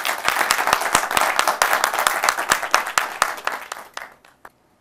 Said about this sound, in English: let's clap for the audience already